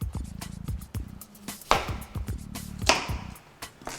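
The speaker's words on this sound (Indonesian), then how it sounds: "Aku akan iris dulu sebentar bawang bombaynya." A knife slices through an onion on a cutting board, giving a series of close, sharp taps and thuds at an uneven, brisk pace, with no voices.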